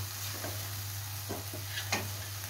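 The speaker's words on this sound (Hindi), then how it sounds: "तो इसे हम अच्छे से फ्राई कर लेते हैं।" Masala fries in oil for dahi aloo, giving a faint, low sizzle under a steady hum, with a few soft spoon scrapes and taps as it is stirred, and no talking.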